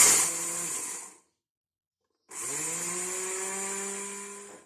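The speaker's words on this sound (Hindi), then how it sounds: "बादाम और काजू को छोटा जो हमारे पास कॉफी ग्राइंडर होता है उसमें इसको ग्राइंड कर लेते हैं" A small coffee grinder whirs loudly through cashews and almonds to make a paste, in two bursts with a silent pause between, the motor's pitch rising as each burst starts.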